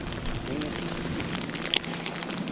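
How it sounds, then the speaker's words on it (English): Freezing rain falls outdoors during a winter storm at a fishing spot by a steam station, a steady patter and crackle of small ice hits with occasional sharper ticks, and voices are heard faintly underneath. "Gotta have some freezing rain."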